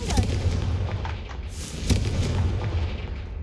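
Confringo fire spell explosions in Hogwarts Legacy, booming blasts with a low rumbling tail, loud and close, two stronger hits over a sustained roar, no talking.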